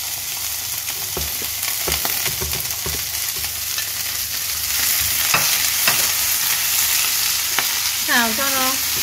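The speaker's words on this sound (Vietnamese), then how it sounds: "Xào cho nó ngấm cái dầu này, tái tái một chút thì mình sẽ cho giá này." Vegetables such as greens, green beans, carrots and kohlrabi stir-fried in oil for vegetarian noodles, giving a steady close sizzle broken by irregular scraping clacks of a utensil against the pan, and a brief squeaky scrape near the end.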